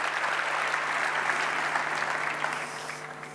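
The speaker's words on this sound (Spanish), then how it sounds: "Un aplauso para" Audience clapping at an economics congress in Argentina, a sustained even round of applause that tapers off slightly near the end, with a faint steady hum underneath.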